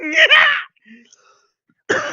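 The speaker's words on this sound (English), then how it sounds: "Sorry about the coughing." A harsh, raspy cough or throat-clearing bout up close, then near silence before another rough burst begins.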